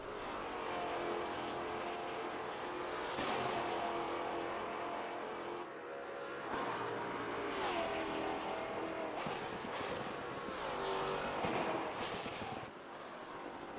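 A Maserati race car roars around the Monza circuit, the engine revving hard with sharp gear-change cuts and crackles, loud and continuous, with no talking.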